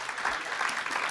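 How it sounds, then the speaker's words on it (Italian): Audience applause at a Paralympic sports gala in Veneto honouring swimmer Martina Villanova, a dense, steady wash of many hands clapping through a brief moment. "andiamo a premiare con un grande applauso Martina Villanova"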